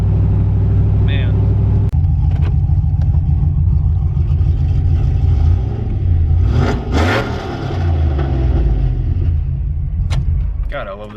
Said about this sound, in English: Listen to this, we're doing about 50. There's no gear whine